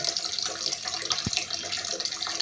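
Tap water running steadily while fish is washed in a kitchen sink, a close continuous splashing stream with one brief low knock partway through.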